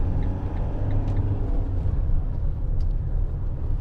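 A Citroen Relay 2.2 HDi 35 Enterprise L3H2 panel van driving, heard from inside the cab as a steady low diesel and road rumble with no talk.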